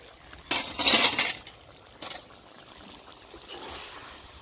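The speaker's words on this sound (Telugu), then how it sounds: "ఇవన్నీ ఒకసారి మూత తీసి చూద్దాం." A metal lid clinks as it is lifted off a pot of simmering fish curry, giving a short bright clatter followed by a softer knock, with light bubbling of the cooking liquid beneath.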